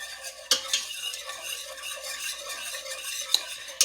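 A flour roux being stirred in a pan as it darkens toward a dark roux: soft continuous scraping, close and alone, with a few sharp clicks of the utensil against the pan.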